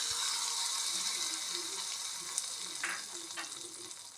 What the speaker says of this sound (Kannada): ಮಾವಿನಕಾಯಿ ಚಟ್ನಿಗೆ ಒಂದು ಒಗ್ಗರಣೆ ಹಾಕಿಡೋಣ.